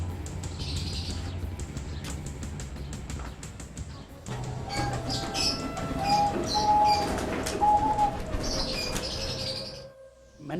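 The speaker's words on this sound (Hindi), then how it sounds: "ये सारे कबूतर उड़ा दे" A flock of pigeons is released to fly, with cooing, chirps and some wing flaps close by, while someone speaks over the birds.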